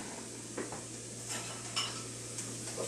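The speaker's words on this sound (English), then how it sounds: "I'm going to whisk this together" Dijon mustard is whisked into a meatloaf glaze in a bowl, with light scraping and clinking strokes over a steady background hum and no talk.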